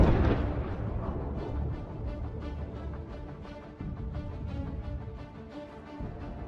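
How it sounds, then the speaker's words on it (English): A Russian T-72 tank sets off a land mine, and a heavy explosion roar rolls and rumbles continuously, loud at first and then slowly fading, with no voices. "This T-72 hits the first mine. As it turns around, it hits the second one. Another epic explosion."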